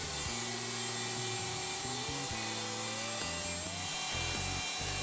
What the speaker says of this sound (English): With the jig clamped in place, the pin board is routed.